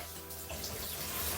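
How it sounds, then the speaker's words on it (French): Tap water runs steadily while a hair volumizer is being rinsed, a brief continuous hissing gush, close and even in level with no talking. "Alors pour rincer le cheveu"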